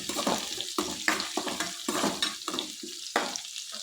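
Green chillies, curry leaves and garlic frying in a pan for masala idli, a sizzle broken by rhythmic scraping stirs about twice a second, close and without talk.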